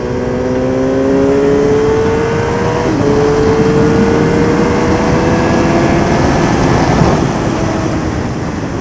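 A race car at the Le Vigeant circuit revs hard and accelerates through a corner, its engine note climbing steadily in pitch, loud and close throughout with no talk.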